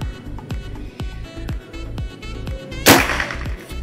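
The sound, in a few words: PCP air rifle shot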